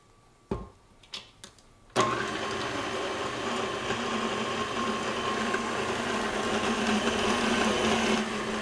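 A mixer or blender whirs steadily and loudly for apple cinnamon muffin batter, wet ingredients with a heaping teaspoon of ground cinnamon, starting after a few short clicks and bumps and running without pause.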